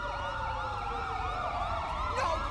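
Wailing ambulance siren in GTA V, its tone sweeping up and down in repeated cycles over a low road rumble, steady and moderately close with no talk.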